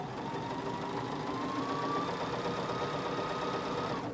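A sewing machine stitches a pillow seam in a steady, continuous whirring run with no pauses, close and fairly quiet, and nobody talks over it.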